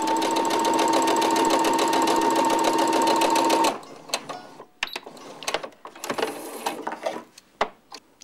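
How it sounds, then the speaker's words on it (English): A Simplicity sewing machine stitches fast with a twin needle, running steadily for several seconds before stopping, followed by scattered clicks and handling noises. "all modern machines can sew with a twin needle"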